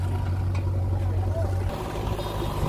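A Mahindra 275 tractor engine works to pull a trolley loaded with fertilizer that is stuck, a loud steady low diesel drone close by that eases off partway through, with a voice talking over it.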